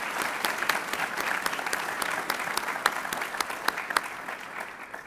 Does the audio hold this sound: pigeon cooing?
no